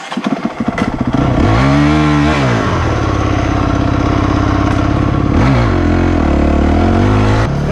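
A Honda 300 Fourtrax ATV engine starting with a few chugs, then revving up and down loudly as it is ridden close by, with a rising and falling drone throughout.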